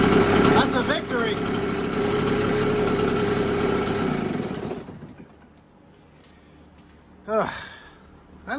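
A RedMax EBZ7500 backpack blower engine runs steadily with an even drone, then dies away around the middle of the clip, leaving near quiet broken only by a short gasp-like breath.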